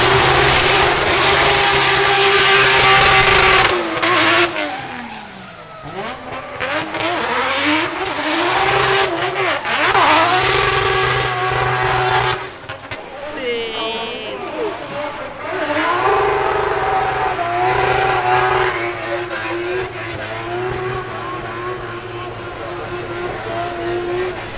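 A race car runs down the course at the Goodwood Festival of Speed, its loud engine note rising and falling over about 25 seconds with revving passes, a brief dip midway, and crowd noise underneath.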